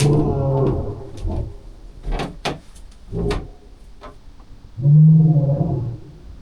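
A lion roars close by in the dark during a night spent among lions, with a deep rumbling call near the start and another loud, low roar near the end, separated by quieter knocks and shuffling.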